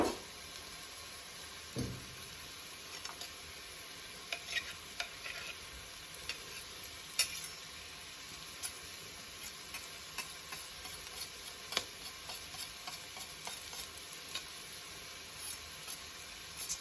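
Garlic and ginger sizzling in a pot for a squash and red lentil curry, a steady close hiss with light clicks and scraping of stirring, and no talk.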